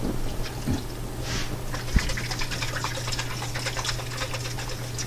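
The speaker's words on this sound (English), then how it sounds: "Now we shake it up." A container of sugar-water yeast starter shaken for home brewing, producing a steady close sloshing, rattling wash of liquid with a couple of soft knocks, no talking.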